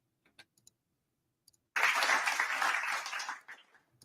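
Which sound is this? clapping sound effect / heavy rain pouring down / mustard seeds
clapping sound effect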